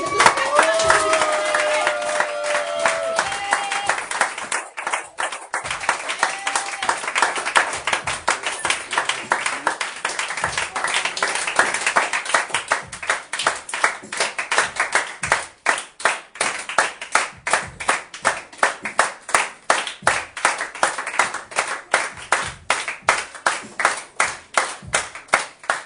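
A church congregation at a Sunday worship and prayer service claps to acclaim the Holy Spirit. Loud clapping at first mixes with voices and singing, then settles into steady, rhythmic claps that continue to the end.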